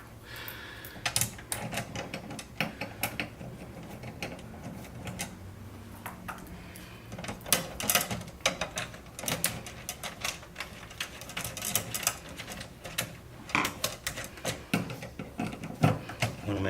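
A screwdriver drives 6mm screws into a 200mm VESA monitor mounting plate, making a steady run of close, sharp mechanical clicks and ratcheting ticks that continues throughout the clip.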